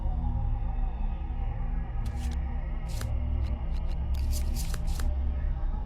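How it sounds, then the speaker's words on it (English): A deck of hit location cards for the board game Kingdom Death: Monster is shuffled, several crisp riffling bursts heard close up over a low background hum. "we have to shuffle the hit location deck."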